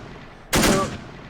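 A single sharp gunshot blast from a soldier's weapon in the war strategy game Assault Squad 2, loud and close, with a brief ringing tail fading over half a second.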